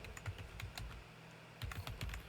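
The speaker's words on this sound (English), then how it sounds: "type in your information" Quiet, close clicking of keys on a computer keyboard in two short bursts separated by a brief pause, with no talk.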